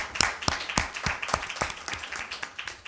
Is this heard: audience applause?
yes